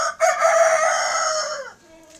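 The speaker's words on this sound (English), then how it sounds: "this chicken is making a lot of noise." A chicken crows once, loud and close, a long drawn-out call that trails off into quiet in a residential compound.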